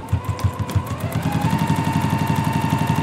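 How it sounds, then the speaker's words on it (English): A domestic sewing machine stitches a couple of inches along the edge of a quilted pillow, its rapid rhythmic needle pulses steady and close, running alone without talk for a few seconds. "I'm going to go ahead and just sew just a couple inches in"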